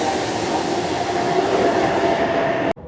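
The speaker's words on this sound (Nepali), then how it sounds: "ट्रेन आयो" A metro train pulls into a station in Australia, a loud, steady rolling roar and rumble that holds throughout and then cuts off abruptly near the end.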